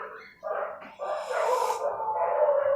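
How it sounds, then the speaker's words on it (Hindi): Several dogs bark and yelp in a short, overlapping burst that rises to a louder sustained yapping, close and alone without speech. "बहुत सारे कुत्ते भौंक रहे"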